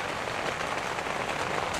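Heavy rain pelts a camp tent in the Alaskan wilderness on a wet, windy day, a loud continuous patter of drops close by with no voices.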